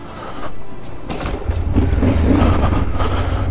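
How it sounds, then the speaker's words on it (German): An old 230 kg motorcycle, around thirty years old, turns over with scraping, rustling noise before a low, rough engine rumble builds and holds, close and loud. "Papfi schmeißt sein Bike an"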